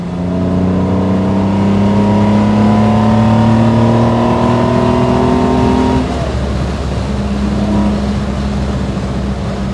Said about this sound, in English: Let's get down to third gear and get on it.